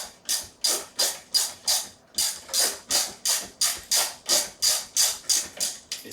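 A hand crank turning on a spindle in a shed makes a steady run of rhythmic grinding, ratcheting strokes, about two or three per second, close and fairly loud with no voices.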